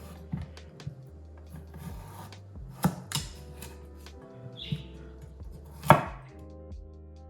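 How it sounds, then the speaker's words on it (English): A knife chops a carrot on a cutting board while vegetables are prepared for a seafood chowder: a handful of sharp, close, irregularly spaced cuts over a quiet kitchen background. "Chopping the carrot."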